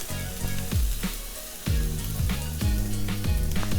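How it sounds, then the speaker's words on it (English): Aromatics for Indonesian fried rice are stir-fried in a hot pan, giving a continuous, fairly loud sizzle broken by repeated spatula strokes and scrapes, alongside a low tonal hum in the background. "stir them for a few minutes to kind of let the aromatics sink in together."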